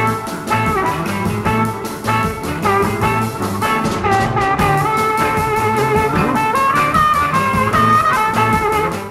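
A blues harmonica riff from a song plays steadily and loudly inside a full band mix, repeating in short bending phrases over drums and bass for about nine seconds.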